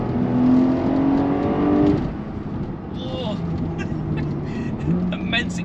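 Porsche 911 Turbo S (992.1) with sports exhaust accelerating hard, a steady rising engine roar heard from inside the cabin, with a voice speaking over it.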